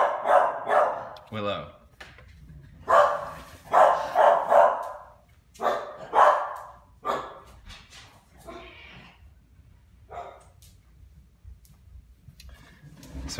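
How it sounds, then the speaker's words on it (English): A pet dog barks in repeated sharp bursts close by, with short whimpers between, interleaved with a person talking over and between the barks. "my dog's gonna probably bark a little bit more"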